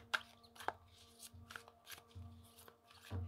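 A new tarot deck is shuffled by hand, its stiff cards riffling and slapping together in short, uneven bursts, close and quiet with no voices.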